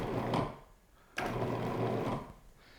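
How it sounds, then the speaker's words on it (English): Food processor pulsing to break up butter for an apple fold-over pie: two short whirring bursts, one brief and one longer, separated by a pause, heard close and alone. "we're going to pulse the machine, probably 5 times just to break up the butter"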